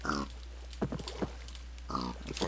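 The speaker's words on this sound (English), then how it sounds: "the five pigs are still here" Pigs grunt in the blocky survival game TerraFirmaCraft, with two clear oinks at the start and end and a few short grunts and clicks between them, all over a low steady hum.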